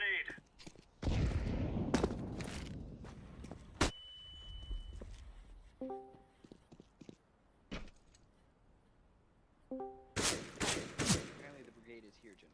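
Counter-Strike gameplay with sharp gunshots and blasts that fit grenade explosions, scattered across the match among quieter clicks, footsteps and other game effects.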